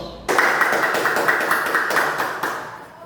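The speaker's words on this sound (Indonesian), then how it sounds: "tepuk tangan untuk Amel, Nisa, dan Mario" A classroom applauds students after their presentation: a steady burst of many hands clapping starts abruptly, holds close and even for a few seconds, then thins out.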